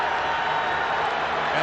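Huge football stadium crowd at a 1994 college game, Colorado against Michigan, roaring steadily as Michigan gets on the scoreboard; a dense, sustained wash of cheering with no break.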